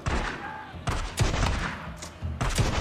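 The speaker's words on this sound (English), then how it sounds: "now you're just going to go in with a shotgun and blow them away." Shotgun blasts in a single-player video game, a rapid run of loud, booming shots packed close together, each with a heavy low thump and a sharp crack, with no voices over them.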